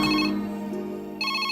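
A telephone ringtone for an incoming call sounds loud and close, a bright electronic melody that pauses briefly and then starts again, with no talk over it.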